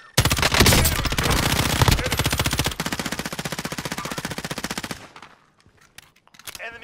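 Sustained automatic gunfire in the video game Warzone rattles in rapid, loud bursts for about five seconds, then cuts off, leaving a quiet tail.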